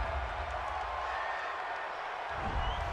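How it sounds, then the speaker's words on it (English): Stadium crowd at an NFL game reacting to a roughing-the-passer penalty, a steady roar of disapproving voices filling the clip at moderate level. "this crowd does not like that call"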